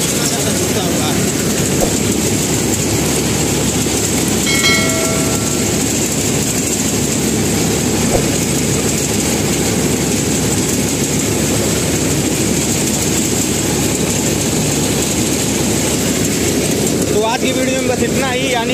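A tractor-mounted mini harvester runs steadily and loudly close by, a continuous dense engine and machinery roar across the whole stretch with no pauses, with brief faint higher tones near the middle and end.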